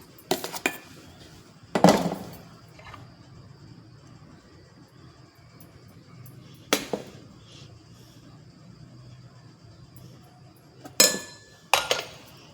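Idli batter spooned into metal idli plates in a home kitchen, with a few scattered clinks and clatters of metal on metal, short sharp knocks separated by quiet stretches.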